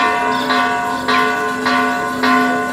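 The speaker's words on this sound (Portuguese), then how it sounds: "E aí, pessoal, saiu o sino da igreja." A church bell rings out over a lively night street scene in Leticia, Colombia, on the triple border with Brazil, giving four evenly spaced strikes above a steady hum of music and crowd.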